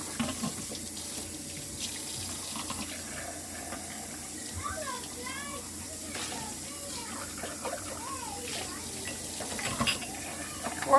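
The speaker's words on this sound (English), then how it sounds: "I do rinse the dishes with the water running." A kitchen faucet on city water runs steadily while dishes are rinsed, a continuous hissing stream with faint voices talking underneath.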